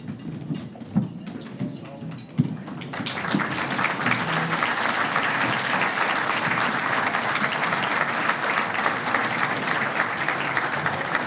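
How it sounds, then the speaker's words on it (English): Banquet audience at a football Hall of Fame induction applauding honored Hall of Famers, with sparse claps at first building into sustained, dense clapping that continues steadily to the end. "Well-deserved applause."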